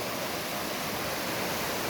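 A river stream along the Kaslo River trail flows steadily nearby, a continuous broadband rush of water with no breaks and no voices.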